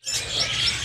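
A white-rumped shama (murai palangka) chirps in a bird shop, giving a quick burst of bright, high tweets over a busy indoor background hum.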